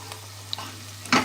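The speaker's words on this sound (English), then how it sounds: "So keep stirring your onions, yeah." Onions frying in a pot for butternut squash soup, a quiet sizzle under faint clinks, ending in a louder scrape of stirring.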